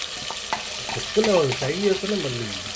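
Onion paste frying in a pan, a steady broadband sizzle with a few stirring knocks, while a voice talks over the second half.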